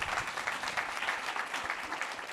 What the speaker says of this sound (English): Please give the panel a round of applause.